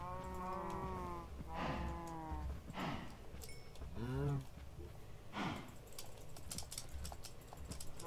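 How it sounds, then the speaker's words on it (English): Cows in the game Minecraft moo several times in sequence, drawn-out tonal calls of varying pitch, with a soft clip-clop and a little background noise between them. "I need to breed these cows."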